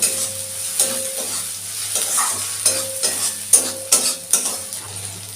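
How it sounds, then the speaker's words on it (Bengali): Garlic and ginger paste frying in a pan for a fish chop, a steady sizzle with the spatula stirring and scraping in repeated strokes, close and continuous with no talking. "রসুনটা ভালো করে কষানো হয়ে গেছে, এবার আমি আদা বাটা দিয়ে দিচ্ছি।"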